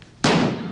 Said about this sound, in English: Johnny and Ed try a toy cannon on December 9th, 1976